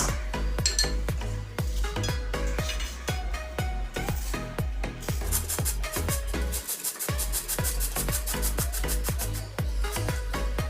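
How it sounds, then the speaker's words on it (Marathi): A potato is grated by hand on a metal grater for sabudana vada, giving close, rhythmic rasping strokes with light metallic clinks, about two per second and steady throughout. "आता आपण बटाटा किसून घेऊया"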